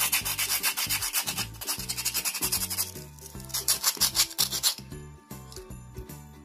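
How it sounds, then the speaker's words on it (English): A coconut shell is scrubbed smooth with quick, rhythmic abrasive rubbing strokes, close and fairly loud, repeating in bursts with short pauses. "you have to scrub like this"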